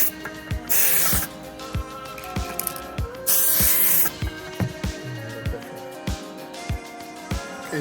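Two bursts of spray from a can of Tamiya PS-53 Lame Flake paint onto an RC car body, each a loud hiss lasting about a second, with sharp clicks and handling knocks between.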